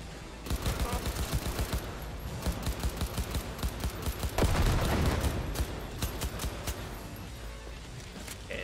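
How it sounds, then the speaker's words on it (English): Assault rifle fire in Cyberpunk 2077 rattles out in rapid, steady bursts of evenly spaced shots for most of the clip, loud and close, with one heavier blast near the middle. "Pull out the assault rifle."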